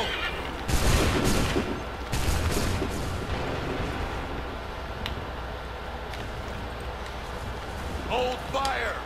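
Redcoat musket volleys in Assassin's Creed 3: two loud, sharp volleys of massed gunfire close together, then scattered distant shots among battle noise, with shouted orders over it.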